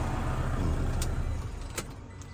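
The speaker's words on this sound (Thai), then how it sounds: "ฟังเสียงเครื่องนะครับ" A Toyota Vigo 2.5 pickup's diesel engine idles close by with a steady low rumble, running smoothly, and a couple of faint clicks come near the end.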